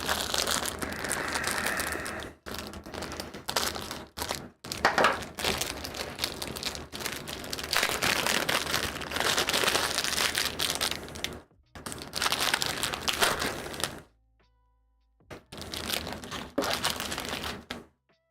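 A plastic bag is crinkled and crushed close up in repeated loud bursts broken by brief silences, with a longer pause near the end before the crinkling resumes.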